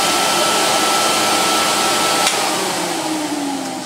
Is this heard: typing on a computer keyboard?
no